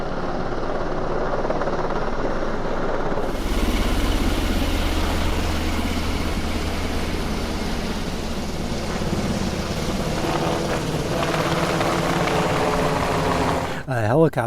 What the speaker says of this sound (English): A helicopter just flew over and landed right next door here.